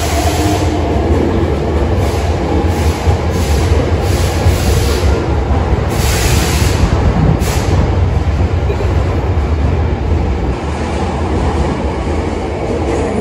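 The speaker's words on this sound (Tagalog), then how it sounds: "Ano siya yung special na train?" Special rapid limited express train in Kyoto, Japan, rushing past close by with a loud, steady roar, rumbling wheels and a bright high hiss throughout.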